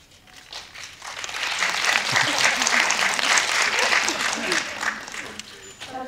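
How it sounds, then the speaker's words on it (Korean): Audience applause fills a film screening talk for a Korean streaming series, building within the first second into a steady, dense clapping that holds loudly for several seconds before tapering slightly. "따뜻한 박수 감사합니다"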